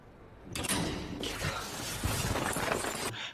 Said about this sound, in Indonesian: terdengar suara Ivan membuka pintu